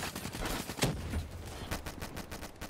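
Rapid shotgun blasts and gunfire in Call of Duty Black Ops III, several sharp close bursts in quick succession mixed with rattling shots of varying loudness.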